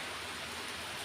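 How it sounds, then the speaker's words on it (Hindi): Heavy, steady rain falls in the hills during sunshine, a dense continuous hiss at low level with no voices. "और बारिश भी ठीक ठाक हो रही है, ऐसे नहीं कि हल्की फुल्की है।"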